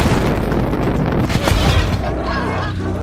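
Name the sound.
explosion ripping through a building in a TV series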